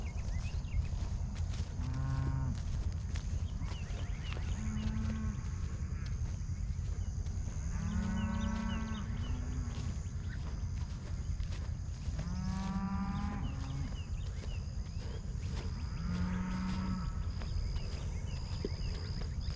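Cattle on a ranch moo repeatedly during a daily check, a cow and calf giving about five drawn-out calls spaced across a steady outdoor background hum, moderately close.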